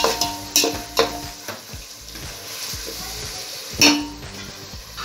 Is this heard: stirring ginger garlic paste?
yes